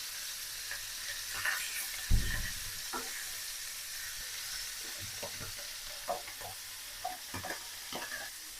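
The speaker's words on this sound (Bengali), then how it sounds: "মাছটা আমি হালকা ভেজে নেব।" Fish frying lightly in a pan, a steady hiss of oil punctuated by sharp clinks and scrapes of a utensil stirring and turning, one louder knock early on, close and fairly quiet with no voices.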